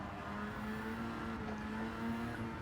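Mazda RX-7 FD3S race car in Gran Turismo 7 on the Tokyo Expressway, a steady sustained engine drone held at near-constant pitch as it eases through a corner, heard alone at a fairly quiet level.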